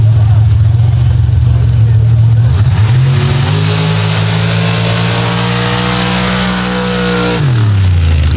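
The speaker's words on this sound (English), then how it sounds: "Right now as our next machine pulls out, this is Rodney Merritt in Disturbed out of Gore, Colorado. Big block Chevrolet." A big block Chevrolet drag racing car at a Gore Springs drag event pulls away with a loud, rising engine roar that builds through the run and cuts back near the end, heard over a commentator's voice.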